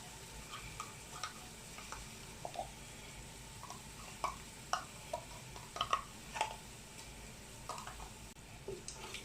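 Canned tomatoes fry quietly over low heat in a pan for fried okra soup, giving a faint sizzling bed with scattered soft ticks and clinks of a utensil against the pan.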